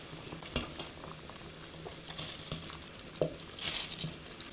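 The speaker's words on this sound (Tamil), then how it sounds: "இப்போ தண்ணி கொதிக்க ஆரம்பிச்சிருச்சு. அதில் இந்த அரிசியை சேர்த்துக்கலாம்." Water on the boil in a pot with rice added for mutton biryani: a steady bubbling, sizzling wash with scattered soft knocks and a brief stirring rustle, close and unaccompanied by talk.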